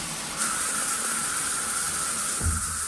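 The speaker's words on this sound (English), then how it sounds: "let's test the shower water pressure" Hotel shower in a Las Vegas timeshare suite running at full pressure, a steady broadband hiss of spraying water that holds evenly throughout with no voices.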